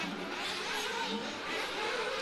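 A 1/8 scale nitro off-road RC car, a Mugen, racing in a national championship final, its high-pitched engine whining and buzzing steadily at a moderate distance, with a broad roar of other engines around it.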